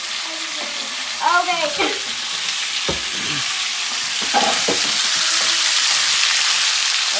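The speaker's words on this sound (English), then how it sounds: "Listen to that sizzle." Venison pieces sizzle loudly in a hot pan, with scraping stirs and sharp pops over a constant frying hiss; a person briefly says a word.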